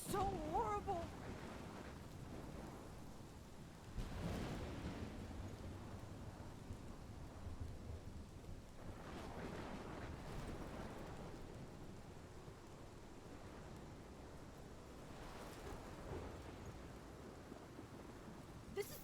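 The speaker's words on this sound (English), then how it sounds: "This is my storm." A thunderstorm rages in Life is Strange, with a continuous wash of rain and wind broken by several low, rolling rumbles of thunder that swell and fade.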